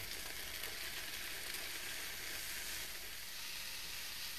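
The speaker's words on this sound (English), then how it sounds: "we're just going to saute these until they wilt" Onion, carrots, courgette and potato sauteing in a pan give a steady, close sizzle with a soft frying hiss that holds even throughout, and no one speaks.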